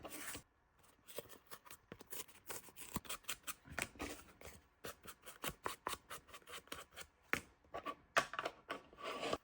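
A paper bag torn by hand into strips for junk journal ephemera, giving rapid bursts of crisp ripping and crinkling with short pauses between tears, close and fairly quiet, with no talking.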